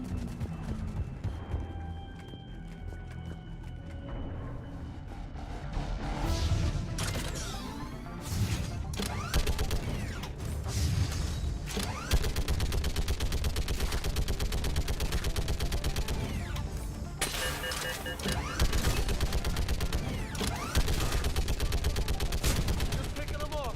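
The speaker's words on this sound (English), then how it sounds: "Up time to man the minigun." Minigun fire during a Mass Effect 3 battle at a barricade, with dense rapid bursts under a loud, continuous mix of game effects and music that builds after the first few seconds.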